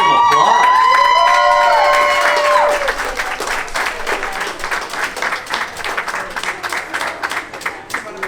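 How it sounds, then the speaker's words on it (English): Applause and whoops ring out from the crowd at a rockabilly pin-up pageant in Stevens Point, Wisconsin, opening with loud shouts and cheers over clapping that then settles into steady, slightly uneven applause. "Let's hear some applause."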